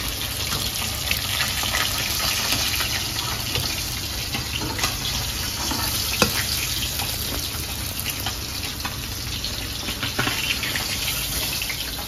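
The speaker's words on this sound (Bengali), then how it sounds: "বাকি মাছ ভেজে নাও মা" Fish frying in hot oil in a home kitchen gives a steady, even hiss that runs unbroken for several seconds, fairly loud and close, with no talking.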